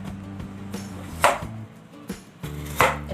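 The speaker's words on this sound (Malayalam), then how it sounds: "നമ്മളിങ്ങനെ സൈഡ് ചെരിച്ച് വെച്ചിട്ട് അരിയാം" Knife chopping raw plantain on a board in a quick series of sharp, close thumps and cuts, with a faint background hum.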